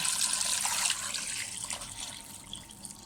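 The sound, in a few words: water poured into a pot of chicken for soup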